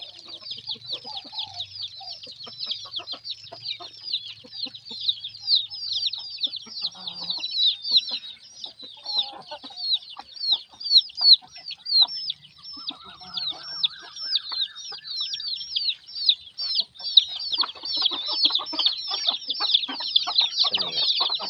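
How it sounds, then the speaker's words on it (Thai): Chickens about five months old cluck and chatter continuously at close range, with a dense layer of high peeping and occasional louder calls in a rhythmic, restless flock din. "ไก่ประมาณหาเดือนนะครับ"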